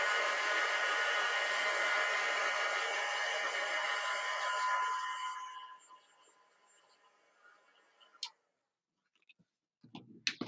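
A hair dryer blows steadily and loudly on ink over card, a broad whooshing hiss that cuts off after about five seconds, leaving faint handling clicks and small knocks.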